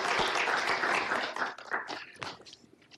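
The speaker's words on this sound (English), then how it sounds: "So give them another round of applause." Applause rises from the audience at a city council meeting in recognition of local kids. It is fairly strong for the first second and a half, then thins into scattered claps and fades.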